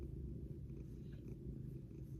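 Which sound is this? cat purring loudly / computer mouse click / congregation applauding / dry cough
cat purring loudly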